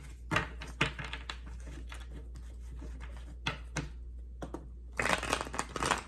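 Tarot cards shuffled in quick riffling bursts, with a louder flurry near the end over a steady low hum.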